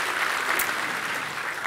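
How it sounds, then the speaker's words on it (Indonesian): A church congregation claps together for Jesus Christ during a sermon, a dense, even wash of many hands sustained throughout with no voices on top. "Tepuk tangan yuk buat Tuhan Yesus Kristus."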